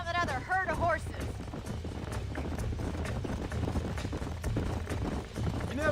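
Horse hooves in the Red Dead Redemption video game clop steadily in a fast rhythm over a continuous low rumble, while voices talk on top throughout.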